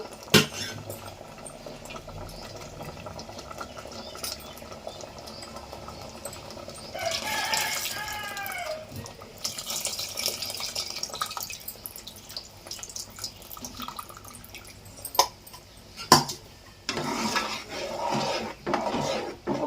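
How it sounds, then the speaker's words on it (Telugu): Dal of toor lentils with drumstick pieces simmering in a pot at home, with a steady soft bubbling and occasional clinks of utensils against the vessel, close and quiet with no talking. "చూస్తున్నారు కదండి చక్కగా ఉడికిపోతుంది పప్పు"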